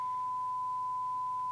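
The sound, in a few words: sine wave tone from Midland CB radio speaker output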